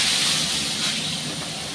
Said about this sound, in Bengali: মাছগুলো এবার আমি ভাজা করতে দিয়ে দিচ্ছি